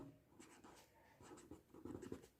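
Marker or chalk scratches faintly across a board in short strokes as an English grammar lesson is written out, quiet and close, with no voice over it.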